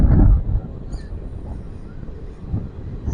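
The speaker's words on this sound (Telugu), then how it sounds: "సూపర్ కొడుతున్నాడు అసలు ట్రైన్." Ratnachal Superfast Express running at speed between Eluru and Nuzvid, heard from inside as a steady low rumble with a louder rush at the start and rattling swells throughout.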